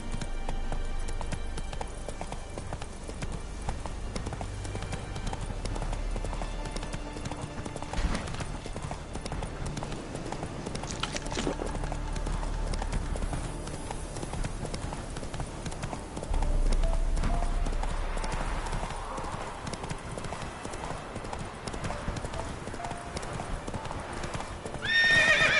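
Hooves of the horse Roach clip-clopping at a gallop in The Witcher 3, a continuous close rhythmic pounding with occasional neighs and snorts, lasting throughout with no one talking.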